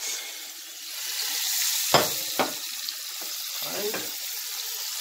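Curry chicken sizzles in a pot while a utensil stirs it, giving a constant frying hiss broken by a few sharp knocks and scrapes against the pot, heard close up.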